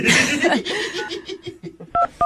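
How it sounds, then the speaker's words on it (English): Laughter and chuckling fade out, then a few short, clear touch-tone telephone dialing beeps sound close by as a number is keyed in. "You about ready to give him a call, see if we can get him on the phone?"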